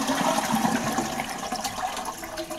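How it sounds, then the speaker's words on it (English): A Fluidmaster dual flush valve runs a full toilet flush, a close, loud rush of water draining from the cistern that holds strong and then eases slightly toward the end, alone without talk. "Here it is on full flush."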